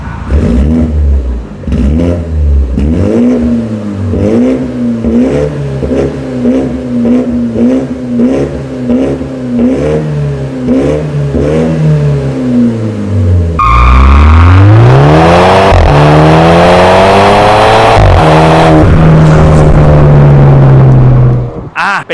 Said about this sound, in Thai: มาฟังเสียงท่อคันนี้สักนิดก่อนที่จะไปดูส่วนอื่นครับ ลองฟังเสียงท่อดูครับ